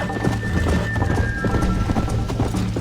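Horse galloping in the video game Red Dead Redemption, a steady, loud run of hoofbeats with a neigh, continuous and close throughout.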